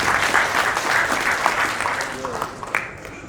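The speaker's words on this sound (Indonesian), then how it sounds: "Tepuk tangan dulu semua." Applause from an audience at a national working meeting and talk show, a dense clapping wash that fades slightly toward the end, with a voice speaking over it.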